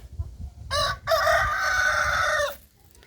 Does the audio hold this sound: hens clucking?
yes